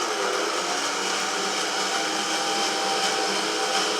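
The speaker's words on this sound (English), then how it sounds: "when you're drilling, don't push too hard" A steady, high-pitched mechanical whine runs continuously throughout, loud and close, like a power drill boring into a wall with no pauses and no talking.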